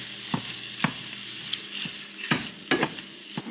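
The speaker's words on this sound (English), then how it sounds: "we are gonna add in 1 pound of ground beef and cook that all the way through" One pound of ground beef cooking in a large skillet, a soft continuous sizzle broken by regular scraping strokes of stirring, close and moderately loud.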